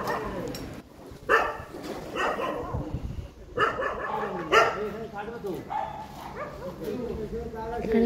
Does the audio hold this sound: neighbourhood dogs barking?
yes